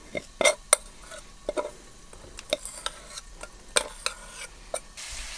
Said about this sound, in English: I'm just going to transfer this rice into a bowl